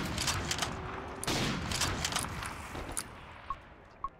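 Rapid bursts of gunfire in Black Ops 3 custom zombies mode, a dense run of shots for the first three seconds, then a few sharper isolated pops toward the end.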